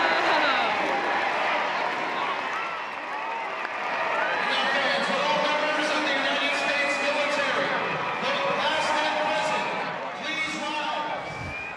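Stadium crowd at a Savannah Bananas versus Party Animals Banana Ball game in Louisville, Kentucky, cheering and clapping continuously at a steady, loud level, with a dense wash of voices and no announcer speaking.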